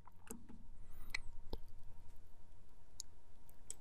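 Computer mouse clicks while starting playback of a photo reel in Photoshop Elements 2024: a few sharp, quiet clicks spread across a few seconds in a near-silent room.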